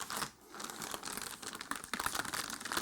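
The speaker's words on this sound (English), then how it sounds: "Grab the 2 end pieces together, and depending on the length of the bag, folding this in 1 or 2 times" Plastic or paper bag crinkling and crumpling as its ends are gathered and folded over while boxes are wrapped, a close, continuous rustle with sharper crackles near the end.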